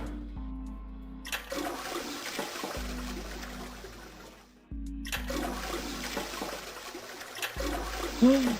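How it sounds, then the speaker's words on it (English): A toilet flushes in the video game 999: The Nonary Games, two rushing game-sound flushes in a row, each a loud watery burst that swirls down, with a short gap between them and a faint voice near the end. "let's flush a toilet multiple times to see what happens"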